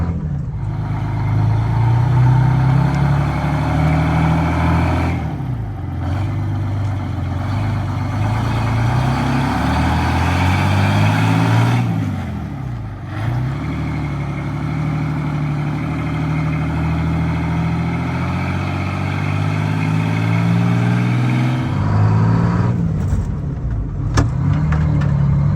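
An old cabover bus, left sitting for 20 years, drives with its engine droning loud and steady throughout, revving up and down between several brief gear-change dips.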